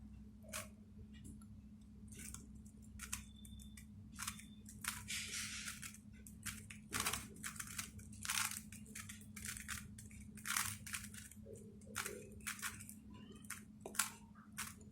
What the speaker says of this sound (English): I'll do the scramble.